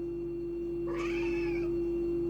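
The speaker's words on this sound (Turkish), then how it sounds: "Konuşan bir kediye sahibim. Konuşuyor." A house cat gives a single clear, drawn-out meow lasting under a second, heard close and alone over a steady electrical hum.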